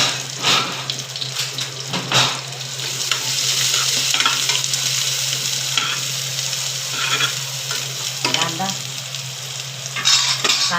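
Chopped onion sizzling in hot tempering oil for a mackerel curry, a loud, continuous close frying hiss broken by stirring scrapes and a few clinks of the pan, with no voices.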